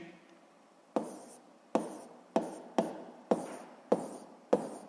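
Pen writing a physics calculation on paper: seven short scratching strokes at roughly even intervals, close and distinct against a quiet background, with no talk.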